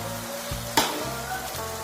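Chicken and crushed green chillies frying in oil for chicken kondattam, a constant close sizzle broken by a sharp clatter of a spoon against the pan partway through.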